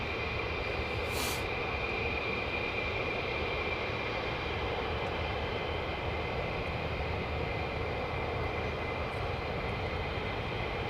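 Fighter jets of the 48th Fighter Wing flying past, a steady loud broadband jet roar with a constant high whine, holding at a sustained level throughout with no talk.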